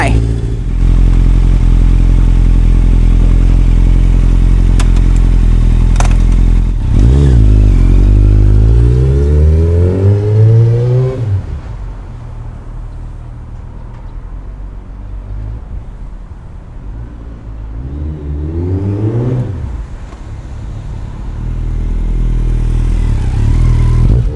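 A 2016 Kawasaki Z900 ABS motorcycle being ridden: a loud, continuous engine drone that rises in pitch as it accelerates, drops back, then climbs again in a second rev.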